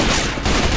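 Gunshots in the video game Left 4 Dead 2 during a survival round in the Dead Center mall atrium, a brief, loud, dense burst of rapid shots.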